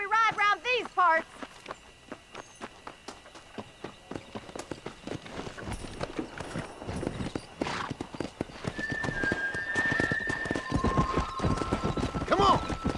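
Horse hooves clip-clop at a steady trot and then quicken as a ride begins in the Red Dead Redemption video game, with a horse whinnying at the start. Voices speak over the hoofbeats and a short melodic tone rings out later.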